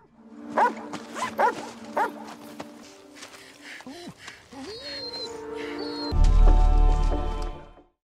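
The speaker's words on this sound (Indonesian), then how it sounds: "Karena anjing tersebut terus saja menggonggong" A dog barks in a few sharp, spaced bursts up close, mixed with whimpering tones and other movie-like sounds, ending under a loud rumble.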